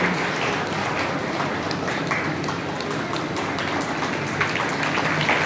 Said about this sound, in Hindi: तालियों की गड़गड़ाहट बंद होती है उससे।